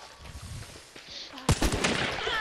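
Sharp gunshot blasts from a Romero hand cannon in the video game Hunt: Showdown go off after a quieter stretch, with a loud crack followed by echoing booms.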